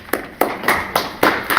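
Claps ring out in a meeting room at a trustees' board meeting after a swearing-in vote, a steady series of about six sharp, close, evenly spaced claps.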